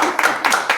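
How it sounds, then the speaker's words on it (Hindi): Audience applause at a celebration gathering for top SSC CGL exam rankers, loud and close, a short burst of overlapping hand claps with a choppy uneven rhythm. "तालियां होनी चाहिए भाई"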